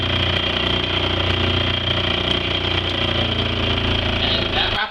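A homemade 12-inch disc sander runs on a test with scrap 2x4 lumber, giving a loud, steady motor drone and a constant abrasive rasp that lasts the whole time without a break.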